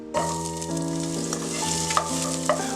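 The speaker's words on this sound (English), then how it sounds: "In the same pan, add a bit more oil and toss in one chopped onion." Chopped onion frying in oil in a pan for a purple cabbage soup, a soft close sizzle under steady sustained tonal background music, with a couple of faint clicks.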